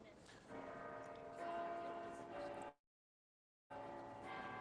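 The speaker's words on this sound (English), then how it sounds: "Can you hear the Minster bells?" York Minster's church bells ring at a distance with sustained, overlapping tones, cutting out abruptly for about a second before resuming.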